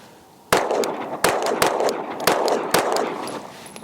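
Five sharp gunshots from a compensated 9mm pistol firing 115-grain rounds, spaced unevenly over a few seconds, each loud and close with a short ringing tail. No voices.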